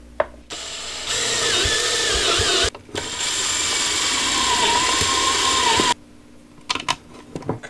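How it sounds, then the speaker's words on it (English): A power drill runs in two sustained bursts with a brief pause between, drilling two holes for battery and grounding wire in a solar panel disconnect box, its whine shifting pitch as it cuts, followed by light clicks and handling. "I just need to drill two holes for my battery and my"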